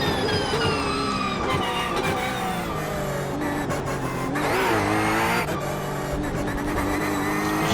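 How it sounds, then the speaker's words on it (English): A Porsche GT3 R 992 race car in the iRacing simulator, its engine roaring loud and continuous as it accelerates out of a chicane, with gear changes and revs rising and falling across the lap. "We come out of the chicane to start our first of 2 qualifying laps in the GT3R 992"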